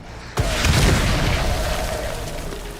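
An exploding enemy bursts in the horror game Resident Evil Requiem. A single sharp, loud boom hits suddenly, then its rumble slowly fades away with no voices over it.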